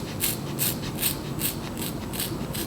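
Scissors snip a curly closure wig in a steady, regular series of close, crisp clicks, about six or seven cuts with no talking.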